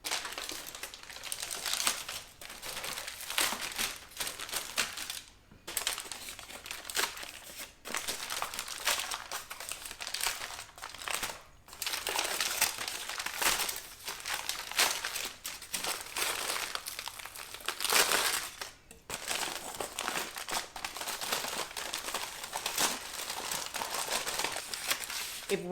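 Christmas crack toffee snapped into rough pieces on sprayed foil, giving dense crinkling foil and brittle cracking, close and continuous, with short quiet gaps between bursts of breaking.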